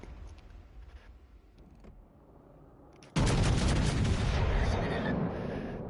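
Warship guns in a naval video game fire a sudden heavy blast after a quieter stretch of low rumble, and a loud roaring boom then holds for several seconds.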